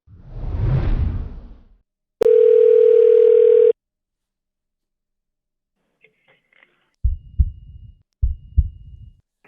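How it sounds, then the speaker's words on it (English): A telephone line while calling a shop: after a brief whoosh, a loud steady dial tone holds alone for about a second and a half, then low muffled thumps and handset clatter follow. "So let's get on the phone and call a couple of shops and see what they have to say."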